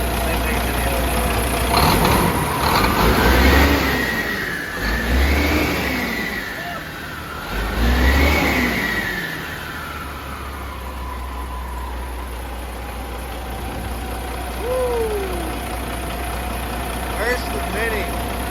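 An International truck engine runs after a new head gasket, idling low and rough with a couple of revs that rise and fall, close and loud, under occasional voices.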